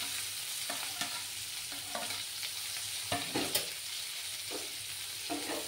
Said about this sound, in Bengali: দিয়ে পেঁয়াজ কুচিগুলোকে ভালো করে ভাজতে হবে।